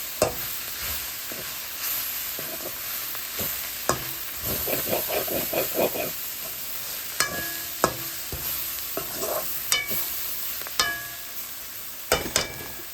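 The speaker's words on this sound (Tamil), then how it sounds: "நாங்கள் கோவா வர இப்படித்தான் வறுக்கிறது" Cabbage stir-fried in a pan with fresh curry leaves: a steady sizzle under repeated sharp scrapes and clacks of a spatula stirring, close and alone with no talk.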